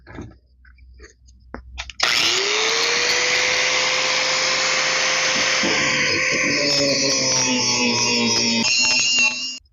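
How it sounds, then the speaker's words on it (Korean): A power grinder spins up and sharpens a brush cutter's line trimmer blade, a loud, steady, high whining grind that runs continuously for several seconds after a quiet start. "이것을 한번 갈아 보겠습니다"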